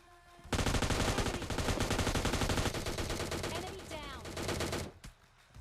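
Rapid bursts of PUBG gunfire, including an M249 light machine gun and a gillie-suited player, crackle loud and dense for several seconds before cutting off abruptly, leaving quieter game ambience.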